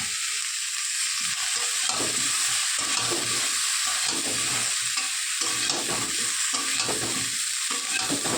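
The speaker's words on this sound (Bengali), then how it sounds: "চলো ভেজে নিই" Vegetables for a Bengali chorchori of raw tomato, flat beans and potato fry with salt and turmeric in a pan, a steady loud sizzle running throughout, broken by repeated scraping strokes of a spatula stirring them.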